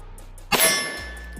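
A single sharp report from a Sig P365 pistol with a 4.3-inch barrel fired on a range in a velocity test. The crack is loud and close, followed by a short ringing decay.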